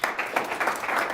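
Brief, close burst of an audience clapping for a speaker at an event, fast irregular handclaps forming a steady patter.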